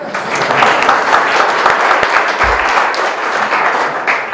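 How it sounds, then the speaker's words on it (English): An audience at an art-scene tribute event bursts into sustained applause, a dense, loud wash of clapping that holds steady for several seconds. "he deserves a round of applause"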